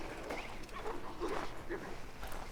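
Dogs barking and yipping in the Assassin's Creed III video game, set in a frontier area during the Braddock Expedition. Short barks and whimpers come in bursts over a steady game ambience.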